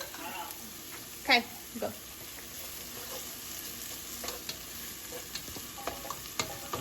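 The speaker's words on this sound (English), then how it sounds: "Get your spatula. We supposed to stir it up?" A spatula stirs food frying in a pan, giving scraping strokes and scattered knocks over a constant sizzle, close by. People talk casually throughout.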